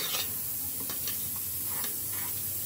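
Mutton frying with chili powder in hot oil, a soft steady sizzle with faint scraping stirs and light taps of the spoon, heard close with no talking.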